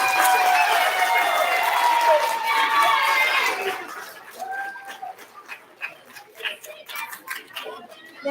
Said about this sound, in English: Can we have a round of applause for our first grade award recipients?